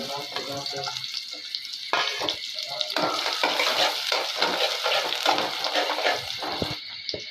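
Chopped onion frying in mustard oil for vegetable rice, a steady bright sizzle with utensil scrapes and clatter of stirring throughout, close and fairly loud.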